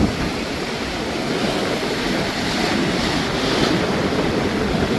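Storm wind roars across the coast at Jaffna while rough sea waves break in a continuous heavy wash, loud and unbroken with no voices.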